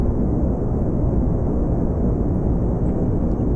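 Steady, loud rocket engine roar at about a third throttle in Kerbal Space Program, a continuous broadband rumble holding even throughout with no talk.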